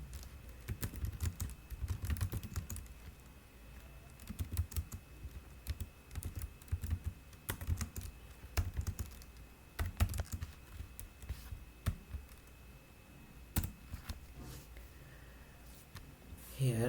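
Computer keyboard typing a Docker command, quick irregular bursts of close key clicks with brief pauses between runs, fairly soft and with no voice.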